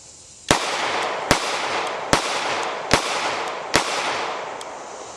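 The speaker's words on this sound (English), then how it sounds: "I'm just going to shoot a few rounds to give you my thoughts on the grip difference" Five sharp pistol gunshots from a Glock handgun, fired one at a time in an even rhythm about every 0.8 seconds, each a loud crisp crack with a short ringing decay, fairly close, with no talking.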